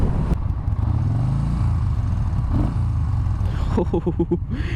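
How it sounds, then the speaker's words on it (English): A 2017 Yamaha Bolt R-Spec motorcycle engine idles with a steady low rumble throughout, close by, with a brief rise in pitch near the end. "I love the sound of this engine. This engine sounds so sick."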